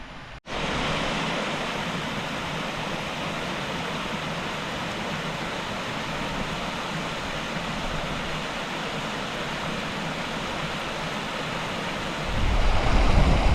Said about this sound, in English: It's basically scrambling alongside this waterfall stream here.